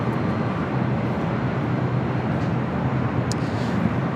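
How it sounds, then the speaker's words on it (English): A Cathay Pacific Boeing 777-300ER taxiing and turning onto a taxiway at LAX gives off a constant, loud broadband jet engine rumble with a dense low roar and no breaks. "Cathay Pacific Flight 885 heading to Hong Kong at 777-300ER, making that left-hand turn onto Bravo"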